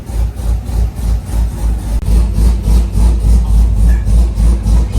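A Corvette with a swapped engine idles roughly and loudly, its low rumble pulsing in a steady, lumpy rhythm close to the listener.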